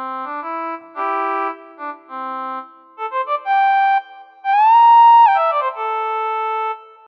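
A trumpet preset on a physical modelling synthesizer plays a short, bright brassy phrase of sustained notes. It includes a few quick repeated stabs and a rising bend near the end, heard alone with no talking.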